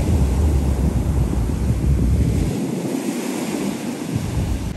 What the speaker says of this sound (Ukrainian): бо хвилі дуже сильні